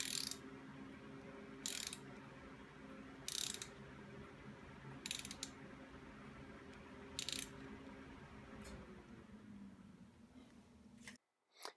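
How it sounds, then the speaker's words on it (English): A wrench on a ratchet turns an engine crank clockwise, a soft steady run of fine clicks with a few sharper, louder ratchet bursts spaced every couple of seconds, ending in a short silence and a final knock. "continue to turn the wrench clockwise 1/2 turn"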